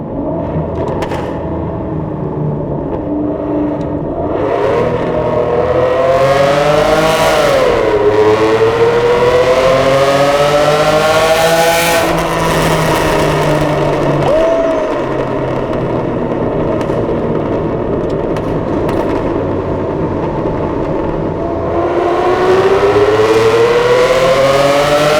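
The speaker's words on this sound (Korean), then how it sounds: "이 V12 특성은 잘 살아있어서 사운드가 아주 좋아요." An Aston Martin Vanquish V12 fitted with custom-built headers revs loud and close, its smooth twelve-cylinder wail rising and falling through several long sweeps with no talking.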